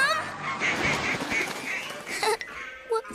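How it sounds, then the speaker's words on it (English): Cartoon ducks honking and quacking in the 2006 animated children's show Higglytown Heroes, repeated short honks over a busy background, fairly quiet in the mix. "We don't want to scare the ducks away."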